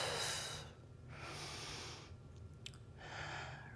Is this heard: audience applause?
no